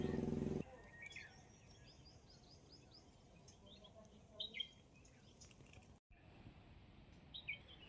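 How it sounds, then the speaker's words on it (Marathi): Faint, scattered bird chirps and short calls sound at a distance over a steady outdoor hush in a hillside village backyard garden at Murud, with a brief louder noise at the very start. "पक्ष्यांचा मंजूल आवाज"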